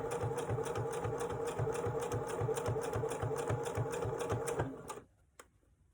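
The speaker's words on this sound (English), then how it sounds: "Back stitching again," A sewing machine back stitching a wallet, a fast regular mechanical chatter up close for about five seconds before it stops abruptly, leaving quiet with a faint click.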